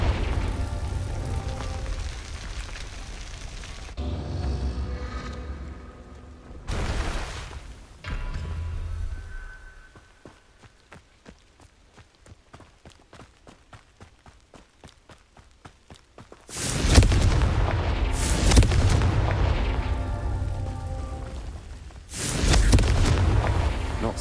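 Repeated spell explosions in a video game: loud, deep booming blasts in bursts, a quieter stretch of rapid regular clicking ticks in the middle, then heavy blasts again near the end.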